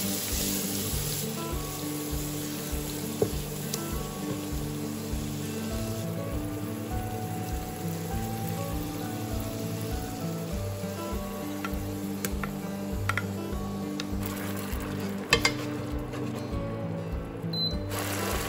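Continuous soft sizzling of bean paste frying in red chili oil with hot pot base, with occasional stirring scrapes and clicks, steady and fairly quiet throughout.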